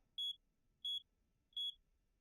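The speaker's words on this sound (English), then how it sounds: "Carbon monoxide alarm?" Carbon monoxide alarm chirping three times, short high-pitched electronic beeps evenly spaced in an otherwise quiet room.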